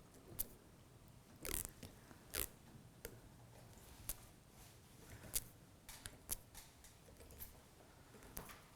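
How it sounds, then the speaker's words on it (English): Scissors snipping lampshade material, a series of sharp, close clicks and snips at irregular intervals over a soft background hiss, with no voices. "Then just snip that away again."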